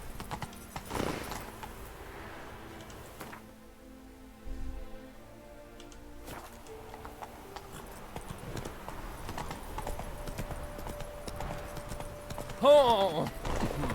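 Horse hooves clopping in The Witcher 3 video game, a steady rhythmic gait running under music and ambient game sound, with a brief whinny-like burst near the end.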